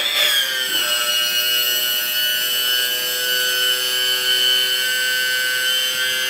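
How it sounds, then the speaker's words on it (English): A 1/20 scale metal RC CAT 793D mine truck runs its hydraulic system to lift the dump bed, giving a steady high-pitched whirring whine with a short rising start. It continues evenly and close by with no talking. "the hydraulic system, that's running it. Lift up the bucket."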